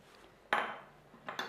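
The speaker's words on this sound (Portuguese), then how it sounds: "E vamos fechar a panela novamente" A cooking pot closed with its lid during a braise of meat, cassava, tomato sauce and wine, giving one sharp metallic clank followed by a short ringing decay, then two lighter taps as the lid settles.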